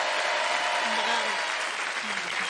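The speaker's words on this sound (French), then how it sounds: "on peut les applaudir très fort" Loud, dense audience applause for guests on a lively French television entertainment show, a continuous roar of clapping from a studio crowd with faint voices mixed in.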